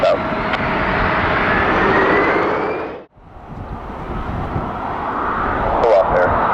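At Detroit Metro Airport, an airplane rolls for takeoff with a loud, sustained roar of engine noise that dips briefly and then builds again, heard up close and with no talk over it.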